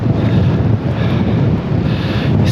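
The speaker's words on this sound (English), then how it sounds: "It's quite windy." Strong wind buffets the microphone beside a lighthouse on the North Sea coast, a loud, continuous roar with gusty swells and a hint of surf underneath, no voices.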